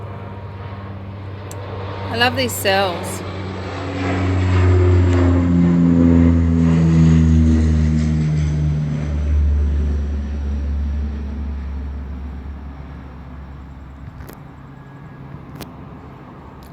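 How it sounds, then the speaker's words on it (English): An aeroplane passes overhead outdoors, a broad engine roar swelling in the middle and slowly fading away, with a person talking over it at the start. "Oh, here comes an aeroplane."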